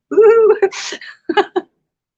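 A single sneeze bursts out nearby, with a short breathy intake before it and a couple of quiet voiced sounds after.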